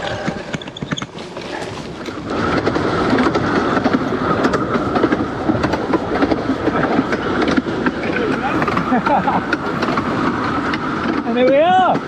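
A heritage railway train rumbles steadily near Wroxham with clattering wheels and a noisy mechanical din, a whistle-like rising tone near the end; a voice speaks over it.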